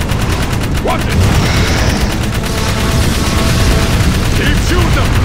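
Continuous bursts of gunfire in the video game Jak 3, dense and loud throughout with game effects layered in, while a player talks excitedly over the shooting.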